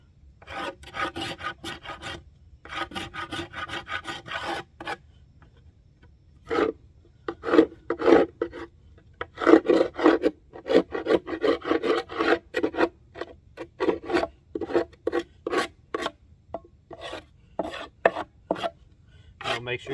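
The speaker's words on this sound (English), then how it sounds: "take the propolis out, all the propolis, scrape it. Your hive tool comes in really handy for it." A metal hive tool scrapes sticky propolis off wooden beehive equipment such as frame rests, in bursts of harsh, rasping strokes with short pauses between, close and fairly loud.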